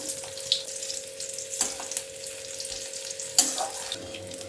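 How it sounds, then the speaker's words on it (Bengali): Potato pieces frying in oil, a faint continuous sizzle with a steady hum underneath and a few brief clinks and stirs. "আলুগুলো আমার ভাজা হয়ে গেছে"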